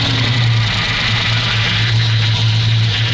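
A Soviet truck fitted with a V8 engine idles steadily and loudly up close, a continuous low rumble with a throbbing pulse; no clear start is heard.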